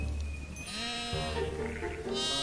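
Sheep from a flock in the countryside bleat in long wavering cries, several overlapping calls close by with no talk.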